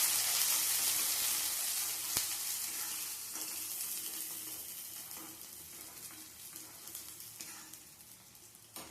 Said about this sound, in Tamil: வெங்காயம் சேர்த்துட்டு நல்லா வதக்கிக்கலாம்